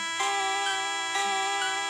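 A phone in a Pokemon creepypasta game rings without pause, a loud electronic tone pulsing in regular bursts roughly once a second, heard alone with no voices.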